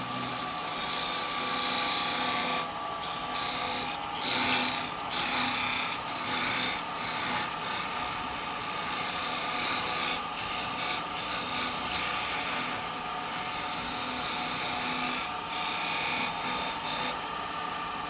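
Carbide chisel cutting a dovetail into a spalted beech bowl turning on a wood lathe, a steady continuous rasping scrape with a constant motor whine underneath, close and fairly loud, with brief pauses in the cutting.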